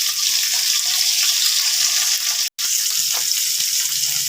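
Salted chunks of potato, papaya and carrot fry in a pan for shukto, with a continuous, close, hissing sizzle broken by one brief gap midway.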